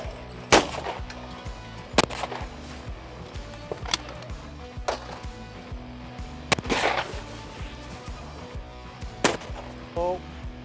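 A Zoli Krono shotgun fires at sporting clays targets, with about eight sharp, loud gunshots spaced irregularly over ten seconds, each trailing a brief echo over quiet outdoor background.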